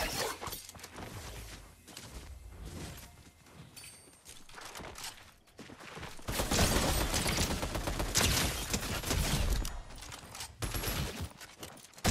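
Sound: sniper rifle gunfire in Fortnite video game

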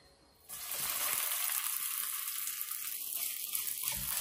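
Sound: seaweed peanut cake frying over low heat

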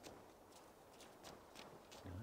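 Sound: horse hooves clopping, from a video game

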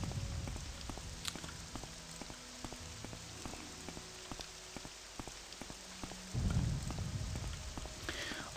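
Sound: rain in the video game Morrowind

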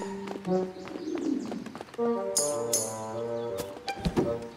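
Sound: birds cooing in the video game Lost in Play

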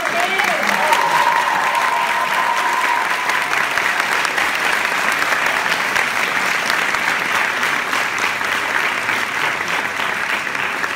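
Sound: audience applause

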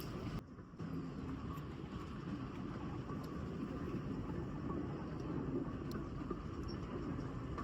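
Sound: train running, heard from inside a carriage

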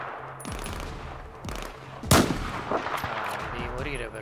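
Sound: gunfire in the video game Battlefield 4

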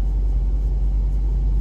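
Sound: 2019 Ford Mustang GT Premium engine rumbling

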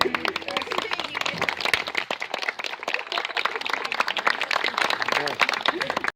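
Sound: applause

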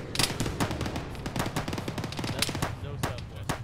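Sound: gunshots

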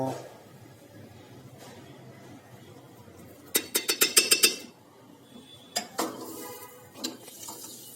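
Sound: tempering being added to batter

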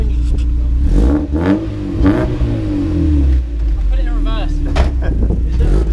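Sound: Mazda MX5 Miata revving for a burnout

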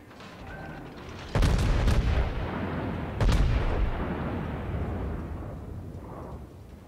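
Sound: naval guns firing in a video game

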